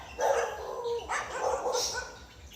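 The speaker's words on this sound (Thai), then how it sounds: "อ้าหมาเห่า" A dog barks in a home setting. Two or three rough, fairly loud barks run together, with no one talking over them.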